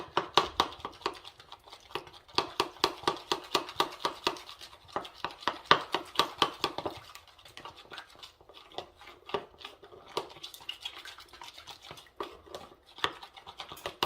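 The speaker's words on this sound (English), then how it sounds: "I'm gonna mix this up pretty well" Honey is mixed into a large bowl of fruit salad with a utensil, producing rapid, rhythmic wet clicks and scrapes in bursts, close and fairly loud, with no talking.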